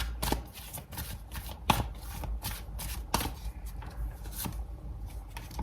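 Tarot cards are shuffled by hand, soft riffling and crisp slapping taps recurring irregularly at close range against a quiet background.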